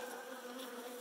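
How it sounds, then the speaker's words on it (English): Saskatraz honeybees fly in a dense swarm as they are dumped from a package into a cage, making a steady, close buzzing hum that carries without a break. "So here's where you're going to see the bees start flying in a significant way."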